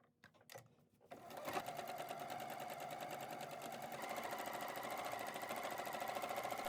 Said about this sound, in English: Now stitch a second line, a 1/4 inch from the first seam line.